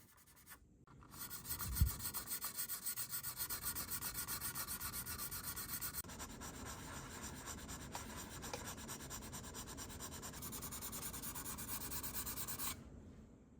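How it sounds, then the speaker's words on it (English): Hand sanding of a 25-year-old Revell Chevy S-10 lowrider plastic model kit body, a steady close scratchy rubbing stroke that runs continuously for about eleven seconds after a brief knock, with no talking. "Give everything a good sanding to even it all up"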